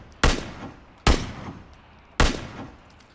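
Three sharp, loud SKS semi-automatic rifle shots in PUBG, evenly spaced about a second apart, each with a quick crack and a short decaying tail.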